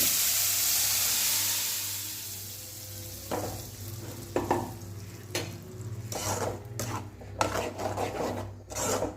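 Ridge gourd chutney sizzles steadily in a hot pan, a broad crackling hiss overlaid with a run of sharp scraping and stirring strokes from the spatula toward the end.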